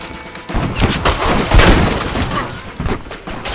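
Gunfire in the video game Red Dead Redemption, an army firefight with dense overlapping shots and booming blasts in a continuous loud barrage, rattling volleys layered over a muffled din.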